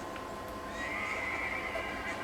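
A horse in the Red Dead Redemption video game lets out a clear neigh, a rising then wavering whinny over faint background ambience.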